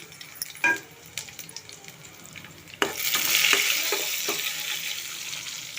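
Garlic, mustard seeds, fenugreek and cumin fry in hot oil for Nellore dal curry. Light clicks and taps come first, then a sudden burst of steady, close sizzling that slowly eases.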